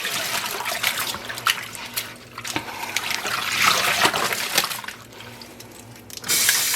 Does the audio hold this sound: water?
yes